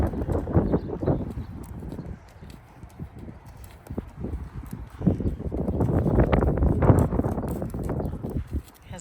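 A young pony's hooves clip-clop steadily on the ground, close and fairly loud, in uneven walking rhythm with some wind noise across the microphone.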